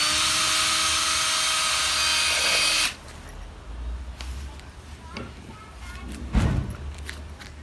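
A power drill pre-drilling pilot holes for window shutters whines loudly and steadily for a few seconds, then stops, leaving quieter scraping and handling noises with a thud near the end.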